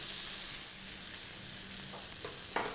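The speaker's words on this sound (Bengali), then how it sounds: "ভেতরে যে পেঁয়াজ রসুনটা কাঁচা ছিল সেটা কিন্তু এখন ভাজা ভাজা হয়ে যাচ্ছে।" Onion and garlic sizzle in hot oil inside fritters cooking over low heat, a faint, continuous frying hiss with a few small crackles toward the end.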